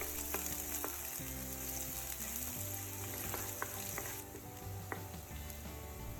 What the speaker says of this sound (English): When the oil is hot, add the finely chopped shallots first and sauté them until fragrant and lightly golden